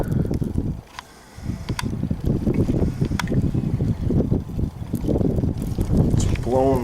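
Strong wind blows through a February snowstorm, roaring and buffeting against the microphone in steady loud gusts for the whole stretch, with a brief lull near the start.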